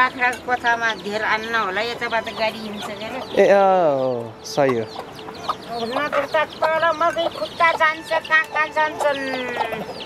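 Chickens cluck and call close by, a busy flock chattering over people talking in the background.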